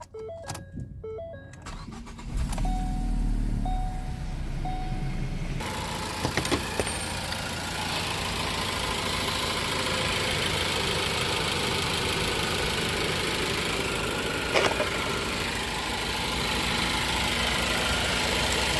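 A 2012 Ford Focus SE, just fitted with new valve cover gaskets and seals, cranks briefly and catches, then settles into a steady, close idle that runs evenly for a long stretch.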